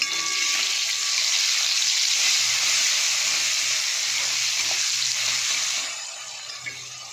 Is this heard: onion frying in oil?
yes